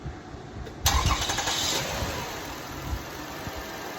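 A 2004 Toyota Sienna engine, fresh from a timing belt, water pump, spark plug and valve cover gasket job, cranks briefly and catches, then settles into a steady idle, heard close with no talking.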